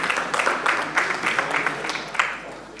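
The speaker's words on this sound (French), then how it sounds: "je pense qu'on peut s'applaudir" Brief, moderate applause from attendees at a neighbourhood council meeting in Bordeaux. The clapping comes in loose, uneven pulses and fades over a few seconds.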